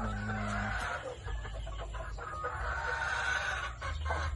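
A gamecock broodcock in a pen, with a clucking and rooster call over a steady low hum and a constant background of other birds and farm noise.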